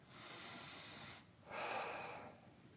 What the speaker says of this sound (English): And give me 6 deep breaths here.